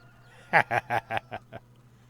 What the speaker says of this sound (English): Farmer Klein, you got chickens everywhere